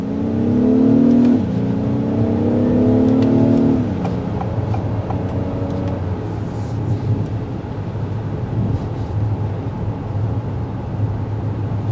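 A 2024 Acura MDX in sport mode accelerates hard with its engine note rising in pitch, dropping briefly at a gear change near four seconds and then climbing again, before settling into a steady cruising drone with road noise.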